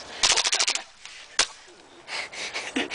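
Airsoft G18 pistol firing on full auto, a rapid burst of sharp cracks followed by a single loud shot and then scattered clicks and handling noise, close and fairly loud.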